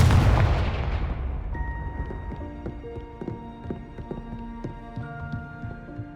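Spell blasts in Hogwarts Legacy open on a heavy booming burst, then settle into rapid rhythmic thuds and plucked, ringing impacts under game music, with no voices.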